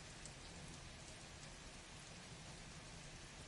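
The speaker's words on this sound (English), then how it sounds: "You're telling me the rain is louder than me?" Steady rain falls outside, a dense, constant hiss with a patter of drops, close and even throughout with no voices.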